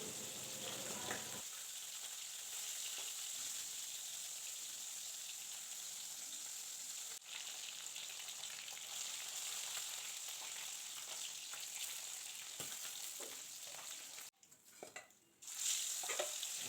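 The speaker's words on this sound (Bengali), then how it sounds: "এবার বাকি মাছগুলো হালকা লালচে করে ভাজা করে নেব।" Pieces of silver carp fry in hot oil, a dense, even sizzle running close and steady throughout, with a few light clinks of a utensil near the end and no talking.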